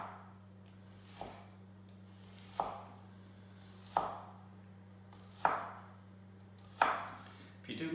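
A knife chops shallots on a cutting board for focaccia, five crisp, evenly spaced strikes about every second and a half, close and distinct over a low steady hum, with no talking.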